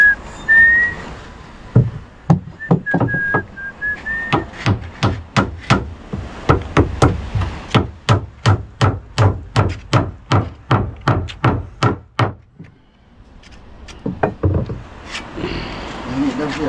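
Rhythmic hammer strikes ring out in quick, regular succession during painting work on a second coat, with whistling early on and voices talking nearby.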